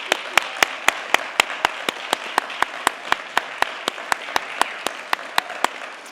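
Audience at a city's State of the Address event applauding an 88th birthday with slow, even, unison claps that ring out sharply and fairly close, about three per second.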